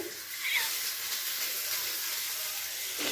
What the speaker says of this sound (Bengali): এখন বাঁধাকপি দেওয়া হবে।